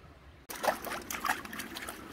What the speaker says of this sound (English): Beautiful creek anyway.